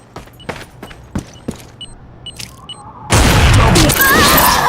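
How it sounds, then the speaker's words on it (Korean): Flashbang grenade in the video game Counter-Strike 2: a few light clicks and taps, then a sudden loud, bright burst with a sustained ringing whine filling the last second and a half. "섬광탄 투척"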